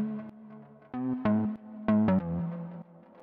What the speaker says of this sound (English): And I'm doubling that up with another bass that's a little bit higher pitched,